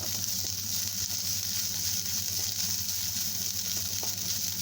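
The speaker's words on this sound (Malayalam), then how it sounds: "തേങ്ങ നല്ല ഗോൾഡൻ ബ്രൗൺ കളർ ആകുന്നതിനും വരെ വറുത്തെടുക്കാം" Grated coconut fries over a medium flame in a pan until golden brown, giving a steady, even hiss of sizzling oil close by with no talk.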